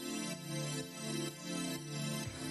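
A smooth, evolving deep house pad loops in a sampler, a warm sustained chord that swells and dips in slow waves of movement, steady and alone.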